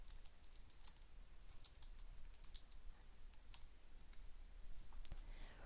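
Quick keystrokes on a computer keyboard while a short message is typed, a close, quiet, steady patter of clicks over faint room hiss with no talking.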